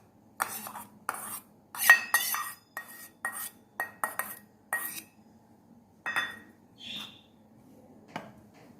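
A spoon scrapes and clinks against a bowl while gram flour is mixed with cumin, green coriander and mint, giving a series of quick, close, irregular strokes and taps that trail off into a few last knocks.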